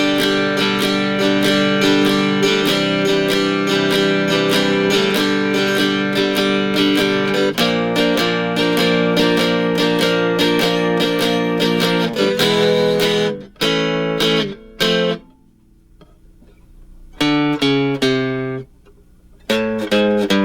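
Guitar strums the bridge chords of a song in steady rhythmic strokes, then breaks into shorter stabs with gaps of silence and ringing chords near the end.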